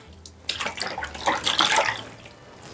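Water splashes and swishes as about a litre is poured and stirred into a lump-free glass polish mix for silk sarees in a container, a steady close-up sloshing that rises and falls.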